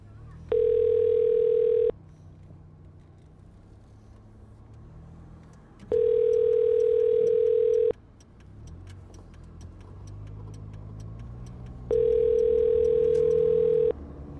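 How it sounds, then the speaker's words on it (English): An outgoing telephone call's ringback, three long steady tones about two seconds each, repeating every six seconds over a low rumbling car-like background hum. "I'm going to call you at the number I texted those messages."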